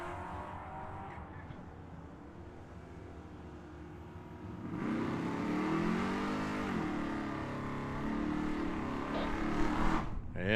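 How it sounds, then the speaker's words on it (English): Corvette and Mustang launching side by side off the line at Tucson Dragway's drag strip, engines roaring up in a loud, rising surge that swells midway and keeps building, mixed with crowd and track ambience. "Corvette gets away. Mustang's away."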